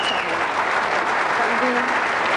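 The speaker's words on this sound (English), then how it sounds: "I know you want to applaud for all of them" Sustained, loud applause from a debate audience inside the Orpheum Theatre in Phoenix fills the whole moment, a dense steady wash of clapping from a large crowd.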